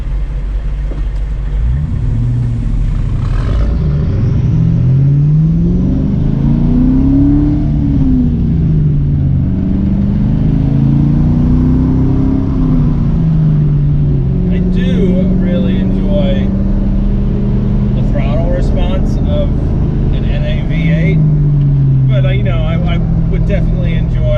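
A New Edge Ford Mustang's supercharged V8, roughly twenty years old, revs up and down in rising and falling sweeps, loud and close, with a person talking over it.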